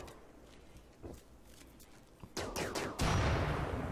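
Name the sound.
gunshot in RimWorld video game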